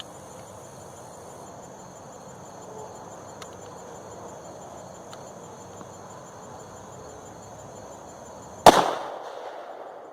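A Taurus Judge Public Defender Poly revolver fires a rifle slug: one sharp, loud shot near the end, after a long stretch of quiet outdoor ambience with chirping insects.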